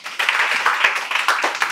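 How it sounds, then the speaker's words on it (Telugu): A classroom audience clapping for students at a spoken English class, brief, dense, enthusiastic applause from many hands nearby. "claps for them"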